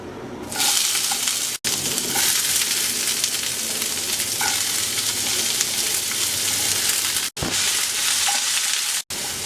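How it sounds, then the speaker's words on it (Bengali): Garlic, onion and green chilli fry in a pan over medium-low heat, a continuous close sizzle broken by a few brief silent cuts, with light stirring sounds. "এবার মিডিয়াম লো আছে পেঁয়াজ রসুনটা সফট হওয়া পর্যন্ত ভেজে নেব"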